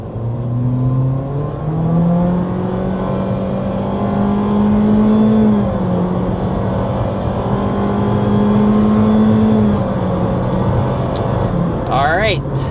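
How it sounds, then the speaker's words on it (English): A 2027 Honda HR-V accelerates hard uphill to 60 mph, its engine droning loud and close throughout. The note climbs steadily and steps back down a few times as if shifting, with a brief whistling sound near the end. "we do need to go ahead and start with a hard acceleration"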